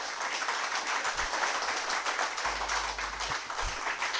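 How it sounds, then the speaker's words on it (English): An audience at a certificate ceremony gives a steady round of applause, moderately loud clapping that runs for a few seconds without talking. "Another round of applause for them."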